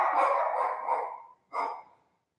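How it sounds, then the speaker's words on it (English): A pet dog barks indoors during a live stream, giving a drawn-out yelping bark followed by a short second bark after a brief gap, moderately loud and with no talking over it. "sorry, my dog's just barked"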